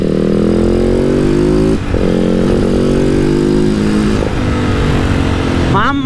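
A TM SMR 450 Fi supermoto single-cylinder engine is heard loud and close while riding. Its pitch falls steadily under engine braking, picks up between gear changes, then falls again, and a rider's voice talks over it.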